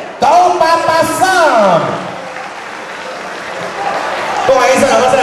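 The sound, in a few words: applause from wedding guests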